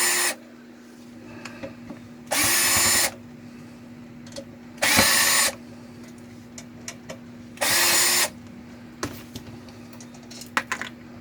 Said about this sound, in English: Probably what I'm supposed to be using a Phillips screwdriver for